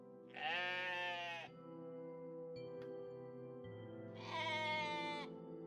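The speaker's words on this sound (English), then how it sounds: "There's a lot of slightly tortured sheep sounds." Two loud, quavering sheep bleats from the video game OneShot, each lasting about a second and separated by a steady low background drone, with faint tonal blips between them.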